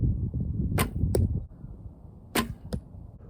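Arrows strike an archery target during a playful dog-versus-cat practice round, landing as two sharp paired thuds over low background rumble.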